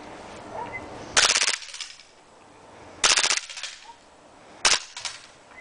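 A Glock 18C airsoft pistol fires full auto in three loud, rapid bursts of sharp cracks outdoors, separated by short pauses and quieter background.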